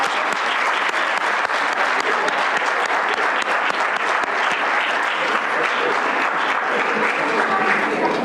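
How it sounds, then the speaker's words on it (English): Steady applause from an audience at a board of education meeting, a dense, continuous wash of clapping from many hands that holds evenly throughout. "Let's give this young man a round of applause."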